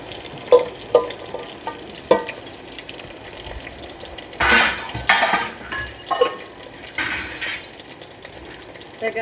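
Brinjal tossed into a hot mustard-seed tempering sizzles and crackles, with spoon scrapes and stirring bursts coming in irregular waves.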